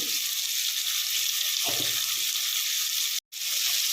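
Ginger paste frying in a pan for khichdi produces a steady, moderately loud sizzling hiss. It is briefly cut off for a moment near the end, then resumes.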